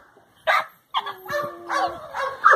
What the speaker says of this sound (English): This little Jip here is a heavy Vernon Jackson dog